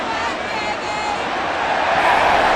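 Steady roar of a stadium crowd at an NFL game between the Los Angeles Rams and Arizona Cardinals on third and long, a continuous broadband din of massed voices swelling slightly near the end.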